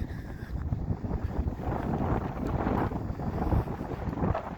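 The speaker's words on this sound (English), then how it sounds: "It's getting a little windy up here." Wind gusting across a high mountain pass at Harvey Pass in Banff National Park, a rough blustery roar buffeting the microphone in uneven surges, close and continuous with no voices.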